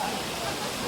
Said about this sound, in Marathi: धबधबा प्रवाहित झालेला आहे.